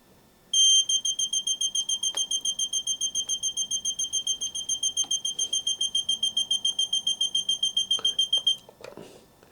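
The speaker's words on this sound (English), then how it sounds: "the electronic alarm tone will sound" A National (Panasonic) TG94 fluorescent-display clock radio's electronic alarm beeping in rapid steady pulses for about eight seconds, loud and close, then stopping abruptly.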